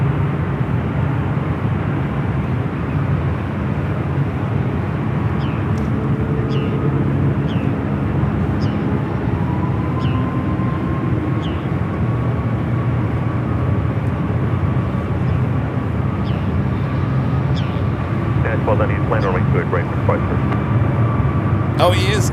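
A jet airliner rolls and takes off from runway 28 left at San Francisco airport, a steady broad roar of engines heard from a distance, with a faint rising whine and brief clicks near the end and no speech over it.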